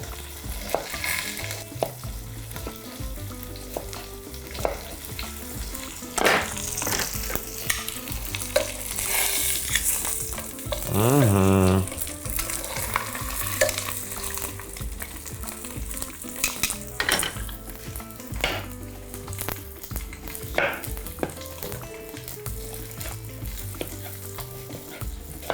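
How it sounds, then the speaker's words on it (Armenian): Beef pieces frying in a pan and being stirred, a continuous sizzle broken by repeated scraping and clattering strokes of a utensil, close and fairly loud, with no voices. "Բարբերաբար շուռումուռ կտանք մսակտորը։"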